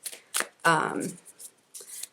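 A small tarot deck is shuffled by hand in short riffling bursts, quiet and close, interleaved with a woman's speech.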